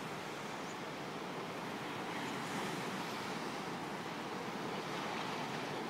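Surf washes steadily onto a sandy beach beside carved limestone rocks along Australia's Great Ocean Road, a continuous broad roar with gentle swells, heard alone without voices.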